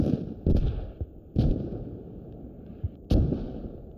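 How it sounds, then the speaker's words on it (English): Mortar rounds land in a military shooter game as three sharp, booming impacts spaced about a second apart, each followed by a short decaying rumble, with a fainter pop in between. "The mortar is hitting their medic's body."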